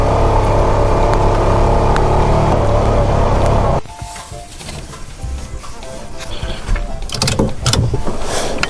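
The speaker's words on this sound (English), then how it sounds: "I'm in second gear, and I'm only doing 13 kilometers, but you hear the engine's revving up pretty high" A vehicle engine revving high in second gear while crawling slowly up a steep hill on a trail near Sussex, New Brunswick: a loud, sustained roar that suddenly drops to a quieter, rougher rumble.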